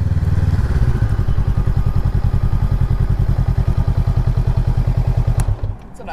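A 2018 Honda Rebel motorcycle rides along with a loud, close, steadily pulsing engine thrum for several seconds, then the sound drops off sharply near the end.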